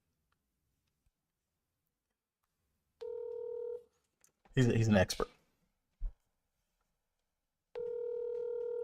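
Phone call to a professional placed over speakerphone during a live stream: a steady ringback tone sounds, breaks off for a short spoken phrase and a click, then the ringing tone returns, fairly quiet and thin.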